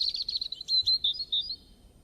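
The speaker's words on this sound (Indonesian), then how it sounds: "Bagaimana suara burung?" A pet bird chirps in a quick run of high, bright tweets, close and clear over a quiet background, lasting about two seconds.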